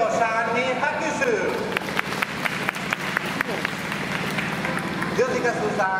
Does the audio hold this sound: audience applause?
yes